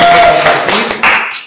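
Brief burst of applause for two guests, Emil and Rebeca, at a virtual university sports welcome festival, a few loud claps up close fading over a second and a half.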